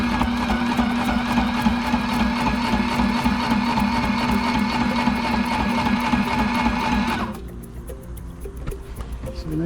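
A sewing machine runs steadily, stitching cloth for a sunshade on a Gemini 3200 boat hatch, with a fast even whirring drone that stops abruptly near the end, leaving a quieter room.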